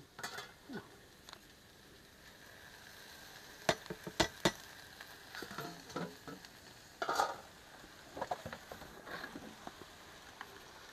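Chicken vegetable chowmein is stirred and fried in a pan in a rural Nepal village kitchen, making a soft sizzle broken by irregular metallic scrapes and clinks of the utensil against the pan.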